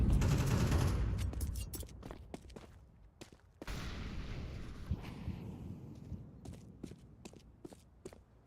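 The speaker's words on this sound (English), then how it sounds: "They've already worked their way out towards middle and are firing shots." Gunfire and scattered footsteps in a Counter-Strike match, with a dense burst of shots at the start, then quieter intermittent sharp cracks and movement sounds throughout.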